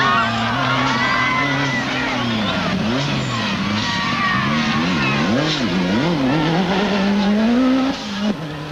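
Rally car at the 1986 WRC Rally Argentina launching off the start and racing away, engine revving up and down in loud, close surges with tyre scrabble, a voice calling over the start.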